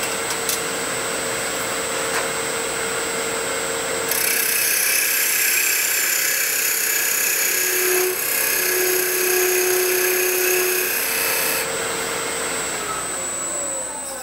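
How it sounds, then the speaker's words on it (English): Wood lathe spinning steadily while a skew chisel cuts a male tenon, a continuous loud whirring motor hum with a rougher, brighter cutting texture rising in the middle stretch and easing toward the end. "And I'm gonna make this male tenon right here. I'm gonna start off with a skew chisel."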